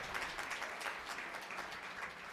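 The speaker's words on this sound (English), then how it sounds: "Go and clap it up" Crowd clapping at a UNLV African heritage awards ceremony and graduation, cheering on an honoree; soft, steady applause heard from a distance, continuous for a couple of seconds.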